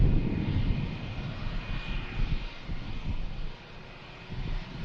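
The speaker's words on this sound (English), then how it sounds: "This is an Airbus A319 coming in." Airbus A319 airliner landing at Manchester Airport on a day of strong winds gives a broad, continuous engine roar with wind noise, steady and fairly close, swelling and easing slightly.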